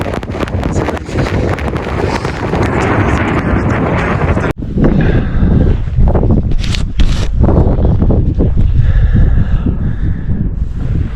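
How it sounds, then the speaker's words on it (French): Steady, heavy wind buffeting the microphone on Acatenango volcano in Guatemala at sunrise, loud and rumbling, with a brief dip midway before the roar resumes. "Il y a un peu moins de vent ici."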